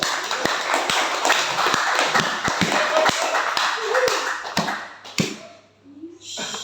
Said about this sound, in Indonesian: Tepuk tangan dulu, semangat.